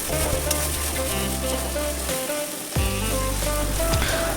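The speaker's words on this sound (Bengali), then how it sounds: "ভালো করে মশলাটা কষিয়ে নিতে হবে।" Spice paste (masala) with turmeric, salt and sugar fries in a pan, giving a dense, continuous close sizzle with a faint steady tune underneath.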